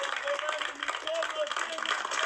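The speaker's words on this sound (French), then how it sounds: "Les Congolais, applaudissez, applaudissez, applaudissez" Outdoor political rally crowd clapping on command, a busy patter of many hands mixed with chatter and a few raised voices, steady and moderately loud across the stretch.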